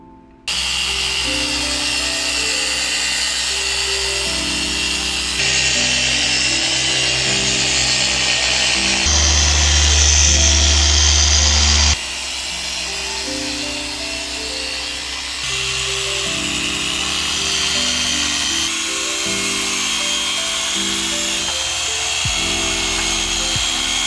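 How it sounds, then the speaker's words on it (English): Machine polisher whirring steadily as it polishes the paintwork of a Mercedes GLS450, a continuous close, loud drone with slight shifts in pitch and pressure throughout, no talking. "We've just completed the paint polishing on the remaining portion of the GLS"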